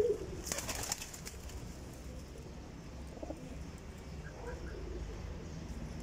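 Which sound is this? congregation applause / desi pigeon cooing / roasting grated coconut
desi pigeon cooing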